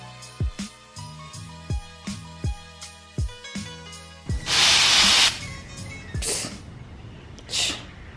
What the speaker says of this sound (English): You want to spray the hairspray while I'm doing this?